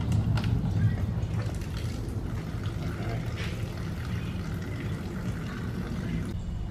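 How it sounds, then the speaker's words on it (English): Engine coolant draining out of a car during a blown head gasket check, a continuous low splashing and gurgling pour with faint drips, steady and close. "So I've got my coolant draining here."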